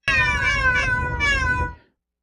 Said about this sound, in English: So sample B is playing this second meow here.